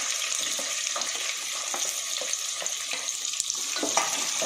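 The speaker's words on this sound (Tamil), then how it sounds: "வெங்காயம் கொஞ்சம் வசங்கட்டும்" Onions sizzle and fry in a pan for chicken salna, a steady bright crackle of hot oil with light scraping stirs throughout, fairly close and with no talking.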